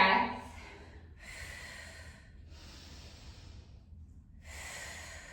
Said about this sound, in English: Stay with that Pilates breath.